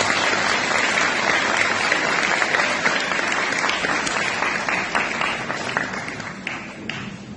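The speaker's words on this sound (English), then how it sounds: "So can we please give him a very warm round of applause?" Audience at a centenary birthday celebration applauding warmly, a dense sustained clapping that stays loud and even, then thins slightly toward the end.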